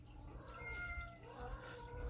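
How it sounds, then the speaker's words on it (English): A house cat meows in a short, drawn-out call of about two seconds, close by and fairly soft, with no talk over it. "my favorite cat's gonna be meowing."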